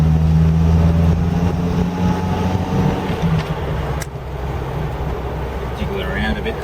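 A small Datsun 1000 car is driven gently on old fuel, its low engine hum steady at first and then softening under wind and road noise, while someone talks over it.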